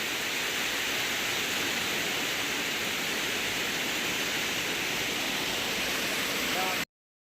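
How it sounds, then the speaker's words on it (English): Water pours over the bottom gate of a filling lock in the Bingley Five Rise staircase on a canal, a steady broad rushing roar that continues unbroken before cutting off abruptly. "So this is now the 5th pound filling up. You can just see it just starting to come over the bottom gate."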